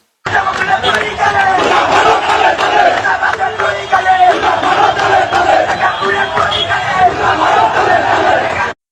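A large crowd of protesters chants slogans in unison while blocking a road, a loud, continuous wall of massed voices rising and falling with the rhythm of the chant.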